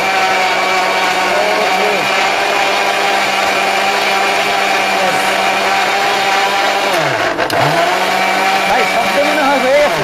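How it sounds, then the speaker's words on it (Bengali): A Prestige 750-watt blender running at full speed, a loud, steady motor whine with a brief dip in pitch partway through as the load shifts. "এটা হলো প্রেস্টিজ ব্লেন্ডার।"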